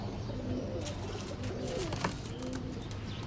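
Ferozepuri female pigeons cooing in a loft, soft repeated low coos overlapping in a steady murmur, close by against a constant noisy background.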